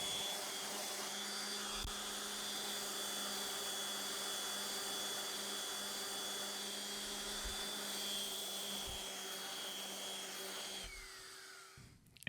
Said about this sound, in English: I'm going to use my random orbit sander to refine the shape of the lid